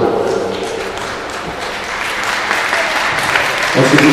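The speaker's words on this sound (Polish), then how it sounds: "Oczywiście wielkie brawa." Steady applause from a crowd at a team award ceremony fills the whole stretch, with a voice speaking over it near the end.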